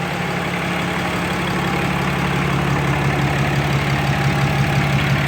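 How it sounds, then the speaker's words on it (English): A 2013 Cummins diesel fitted with an aFe cold air intake idles steadily, a loud, even low rumble with a fine rhythmic clatter and constant drone close by, no talking. "There's not much difference in the sound that comes from the engine when you're just idling"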